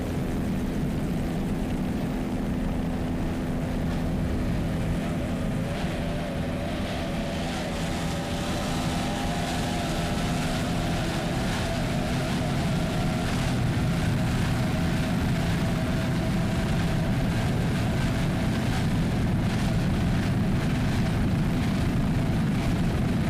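An offshore racing catamaran powered by three Mercury 2.5 EFI outboard engines roars steadily at a championship race, a loud continuous engine drone with wind and water noise filling the whole stretch.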